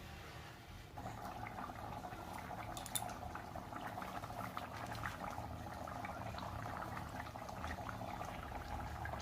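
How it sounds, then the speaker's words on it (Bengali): Pointed gourd and prawn curry gravy boils on a high flame, a steady, faint, continuous bubbling and gurgling heard up close with no voices. "তো 10 মিনিট ধরে ঝোলটা ফুটছে।"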